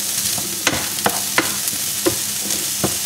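Chorizo with onions and garlic sautés in a pan, a loud close sizzle punctuated by regular scraping stirs and spoon taps roughly every half second.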